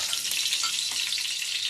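Whole garam masala spices and black cardamom hiss in hot oil in a continuous, bright sizzle. A spoon gives a couple of faint stirring scrapes.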